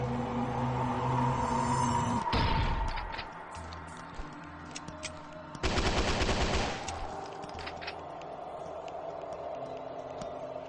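Gunfire from the SCP Pipe Head video game while shooting at Siren Head: a short burst of rapid shots, a pause, then a longer dense volley, over a low droning game background.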